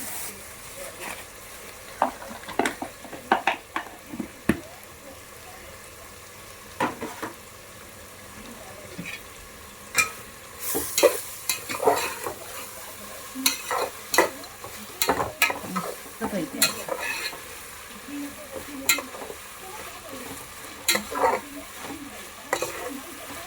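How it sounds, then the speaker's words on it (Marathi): Rice gets stirred and sautéed in a pan with a bay leaf, giving repeated scraping and rattling strokes over a low sizzle, close and fairly quiet, irregular but steady throughout. "परतून परतून ह्याच्या इकडे बघू शकता तांदूळ आपले"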